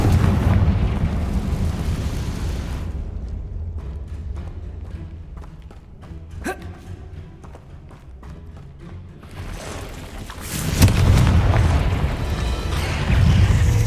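A Confringo blast spell going off inside a tomb in Hogwarts Legacy, a deep rumbling explosion that decays over several seconds into scattered debris clatter and a sharp crack, followed by another loud burst.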